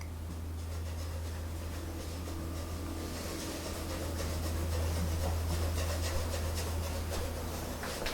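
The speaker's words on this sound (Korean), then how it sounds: "계속 비빈다는 느낌으로 밝은 데는 많이, 연필질을 많이 하면 돼요." Pencil shading on drawing paper during a basic sketching lesson on a cube, a soft, continuous rubbing scratch with repeated strokes over a low steady hum, no voices.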